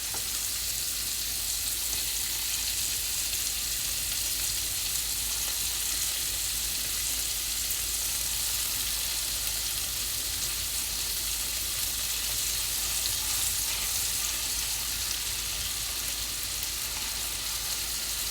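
Venison tenderloin steaks sizzle in a hot pan: a steady, dense hiss of frying that stays even and fairly loud throughout, with no voices over it.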